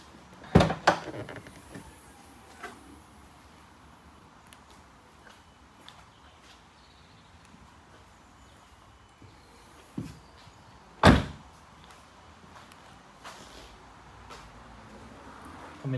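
The boot of a Nissan Juke 1.0 DiG-T 114 Tekna opens with a sharp double clunk and later closes with a solid thud, separated by a long quiet stretch with faint handling noises.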